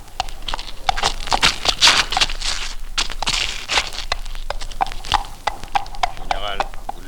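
Rhythmic hoofbeats of a horse clip-clopping at a walk, steady and fairly close, with voices speaking over them throughout.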